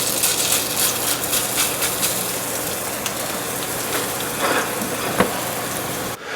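Pork potsticker filling sizzling as a small test piece fries on a stovetop, a steady broadband crackle with a soft thump near the end before it cuts off.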